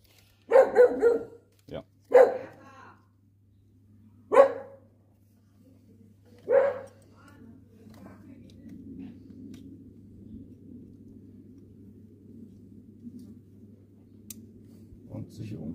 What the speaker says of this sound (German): Dieser Hund nervt gar nicht.